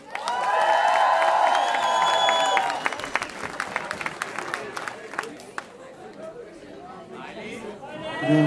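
At the Miss Drag Queen De Panne 2017 final, a short music jingle gives way to an audience clapping and cheering for a contestant, sharp claps over crowd chatter that thins out toward the end.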